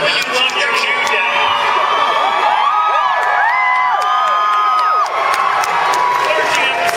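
A Comic-Con panel crowd cheers and whoops loudly and continuously, with shrill individual whistles and shouts rising above a dense, near roar of a large audience.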